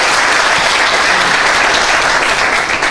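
Sustained applause from an audience at an engineering training event in India, a dense, steady wash of clapping that carries on for the full three seconds without any talking.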